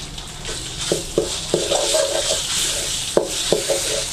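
Thai red curry paste with turmeric is stir-fried in a pan for a spicy chicken curry, giving a steady sizzle broken by sharp scrapes and clatters of a utensil stirring against the pan.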